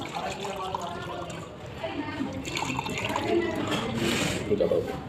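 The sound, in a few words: water being poured into two glasses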